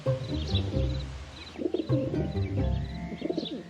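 Pigeons coo in The Secrets of Da Vinci video game, with repeated low, throaty coos and soft bird calls over steady ambient music, without speech.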